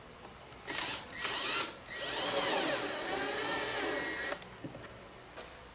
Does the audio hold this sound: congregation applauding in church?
no